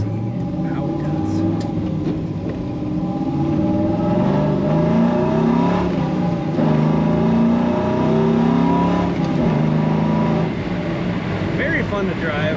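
1970 Chevrolet Nova engine revving hard as the car accelerates, a loud, rising and falling throaty roar heard from close by, steady throughout with shifting pitch as it pulls through the gears.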